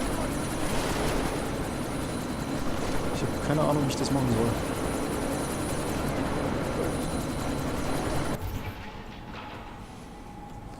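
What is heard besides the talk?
helicopter taking off in video game Deus Ex: Mankind Divided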